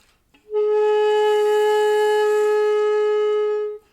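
A shakuhachi flute holds a single long note with a clean, pure tone, steady and close, with a soft breathy edge, swelling in quickly and fading away after about three seconds.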